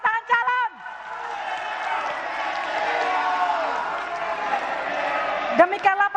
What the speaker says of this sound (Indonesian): Bapak Ibu, kita berikan tepuk tangan kepada dua pasangan calon.